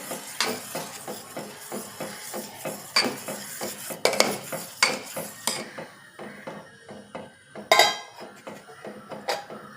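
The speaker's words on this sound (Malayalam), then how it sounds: "നമുക്കിത് നന്നായി ഇളക്കി കൊടുക്കാം നമ്മൾ ഇളക്കി കൊടുക്കും തോറുമാണ് ചായയുടെ രുചി കൂടുന്നത്" A spoon stirs tea in a metal pan, producing repeated rhythmic clinks and scrapes against the pan, close and fairly loud, with a few sharper knocks along the way.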